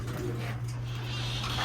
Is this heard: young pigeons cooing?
yes